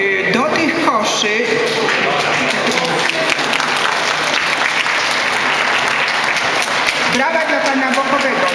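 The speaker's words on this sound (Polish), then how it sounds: "Brawa dla Pana Bokowego" A crowd claps loudly and continuously for several seconds, with a voice and some music-like tones at the start and end.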